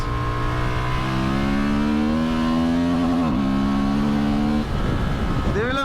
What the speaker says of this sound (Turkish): Bak şimdi çıkıyorum. Üst devirdeyim biraz.